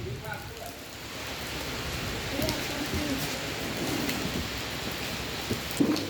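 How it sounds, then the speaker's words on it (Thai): Steady rain falls outdoors as a dense, even hiss that fills the whole stretch, with faint voices and a few small knocks mixed underneath. "ฝนตกลูกเด้อ"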